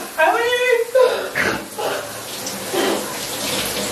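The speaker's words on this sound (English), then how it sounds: "Open the tap to the end." Water gushes from a fully opened tap in a steady, hissing stream while excited voices talk and exclaim over it nearby.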